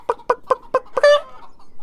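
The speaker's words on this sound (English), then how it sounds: "Oh, they're little chickens." Chickens clucking in the video game Beyond Eyes: five short, evenly spaced clucks, then a longer, higher squawk that fades out, all close and clear with no talking over them.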